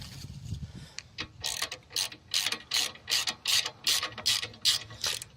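A socket ratchet unscrews a motor screw on an Invacare Pronto M91/M94 power wheelchair, giving a steady run of sharp, close clicking bursts after a brief opening scrape.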